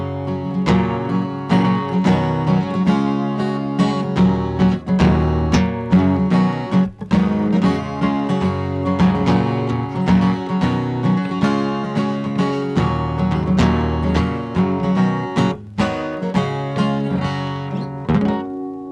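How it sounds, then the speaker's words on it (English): Acoustic guitar playing a steady strummed and picked part, with full sustained chords and regular rhythmic attacks, loud and close throughout with no voices. "On acoustic guitar, it sounds like this."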